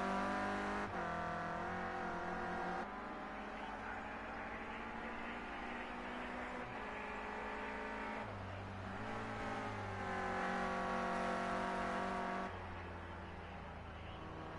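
Renault Clio Cup race car at SUGO circuit, engine droning loudly and continuously close by, with pitch rising and falling as the driver lifts off, brakes briefly and accelerates again.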